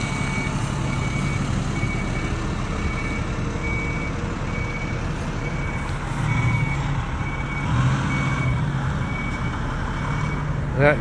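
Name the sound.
truck reversing beeps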